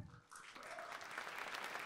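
An audience claps together in a burst of applause answering a show-of-hands question at a heated debate event, steady and fairly faint after a short quiet start.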